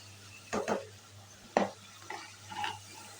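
A spoon scrapes and stirs frying spices for chole in a pan, with a few separate close stirring scrapes over a faint low sizzle.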